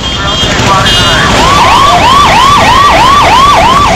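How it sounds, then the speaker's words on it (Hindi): An ambulance siren wails while stuck among hundreds of vehicles on a flooded road in Imphal, India, repeating a loud rising-and-falling sweep steadily over the rumble of traffic. "सैकड़ों गाड़ियों के बीच मरीज को ले जा रही एक एम्बुलेंस भी फंस गई।"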